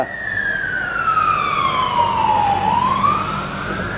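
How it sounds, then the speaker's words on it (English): An emergency vehicle siren wails steadily, its pitch sliding down slowly and then rising again, loud and fairly close over a constant background rumble. "Hear those sirens."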